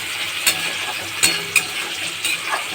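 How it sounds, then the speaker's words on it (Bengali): Potato and papaya curry frying in a pan with a little water added, a steady soft sizzle with a few sharp clinks of stirring scattered through. "অল্প দিয়ে এটা একটু ভেজে ভেজে করে নামিয়ে দেবো।"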